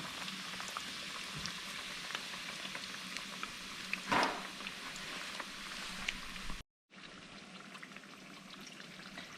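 Coconut crusted redfish fingers frying in a pan, a steady crackling sizzle with small pops. It stays faint and continuous, cuts out briefly near the end, then resumes.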